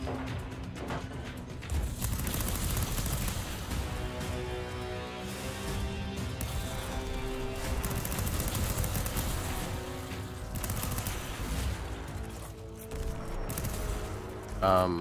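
Gunfire and turret shots in the Fury Unleashed video game during a tank miniboss fight, with dense rapid bursts and layered explosions rolling on almost continuously under game music, loud and busy throughout.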